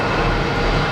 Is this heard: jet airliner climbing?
yes